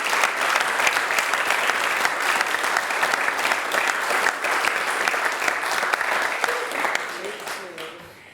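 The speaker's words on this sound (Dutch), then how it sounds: "Applaus." Sustained audience applause at a Frisian dictation contest event fills the hall steadily for several seconds, then tapers off near the end while a few voices emerge.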